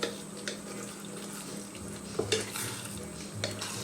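Vegan Mongolian-style stir fry vegetables coated in thickening sauce get stirred in a pan, with soft sizzling under scattered scrapes and clinks of the utensil against the pan.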